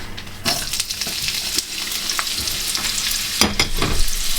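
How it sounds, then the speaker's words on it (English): Onions hit hot oil in a pan for a Thai beef stir fry, giving a steady close sizzle with scattered crackles and a few scraping stirs. "A little bit of oil. And firstly in with our onions."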